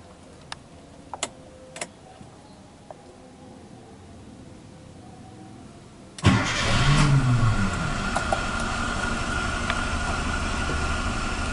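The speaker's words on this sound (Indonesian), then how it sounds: "Oke, ini mesin udah nyala, udah panas ya" After a few faint clicks, a Suzuki Katana engine cranks and catches with a sudden roar, then settles into a steady, loud idle.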